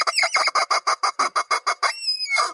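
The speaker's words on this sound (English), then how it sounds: "But there was literally a chicken jump scare." A chicken clucks in a rapid run of about ten sharp, evenly spaced bursts, loud and close, ending in a drawn-out squawk, set as a horror movie jump scare featuring chickens in a barn.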